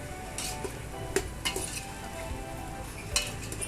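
Vegetables for pav bhaji sautéing in oil in a pan give a steady soft sizzle, with a few light clinks of a spoon against the pan scattered through.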